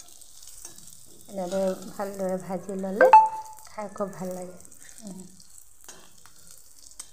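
Pumpkin leaf fritters frying in hot oil to serve with dry fish chutney; a soft, steady sizzle runs under a person talking in the foreground.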